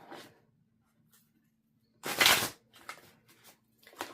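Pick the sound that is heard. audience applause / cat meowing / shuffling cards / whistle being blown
shuffling cards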